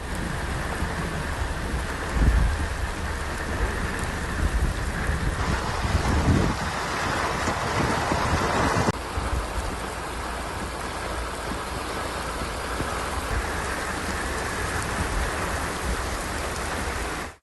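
Heavy rain pours steadily during a storm in Telangana, a loud continuous hiss with low rumbling underneath and a brief heavier burst partway through, no voices.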